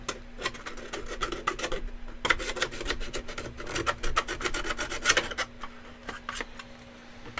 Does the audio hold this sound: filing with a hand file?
yes